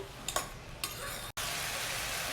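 Salt and turmeric being stirred into a dish in a pan for mattikaya vankaya pappu, a steady close sizzle of frying with a few sharp scraping stirs early on, no talk.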